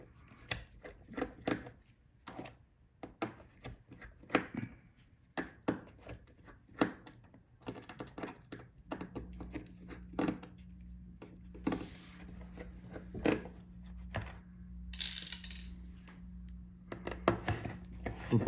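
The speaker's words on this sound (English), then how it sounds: "So unscrew all the screws for the hinge" Small screws being unscrewed from the hinges of an MSI Raider GE78 laptop, heard as a close series of sharp clicks and scrapes from a screwdriver and handling, with a low steady hum joining partway through.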